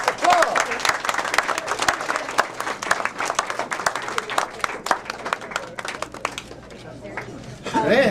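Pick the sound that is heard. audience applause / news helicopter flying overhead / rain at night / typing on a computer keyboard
audience applause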